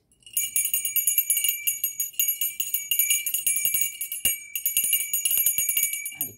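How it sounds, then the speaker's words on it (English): A hand bell rings repeatedly in bursts of bright, sustained metallic tones, loud and close, with short pauses between the rounds of ringing and no talking. "Watch your ears because I'm going to ring my bell"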